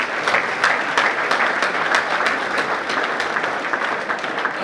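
A crowd at a live final face-off event claps, a sustained, fairly loud wash of applause with a few sharper individual claps standing out near the front.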